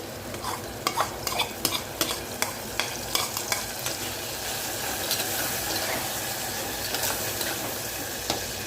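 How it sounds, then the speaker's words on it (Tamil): Onions sautéing in a pan for a horse gram and fenugreek thokku, with a steady sizzle and repeated scraping strokes of a spoon, fairly close, no voices. "வெங்காயம் பாருங்கள் நல்லா வதங்கி வந்துடுச்சு"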